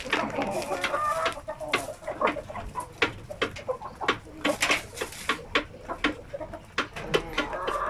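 Native Bisaya chickens clucking nearby in a run of sharp, uneven calls, several birds overlapping with brief pauses between bursts and no one talking.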